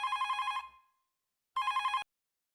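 A telephone rings twice, each burst a rapid trilling electronic bell, loud and close, separated by a short silence.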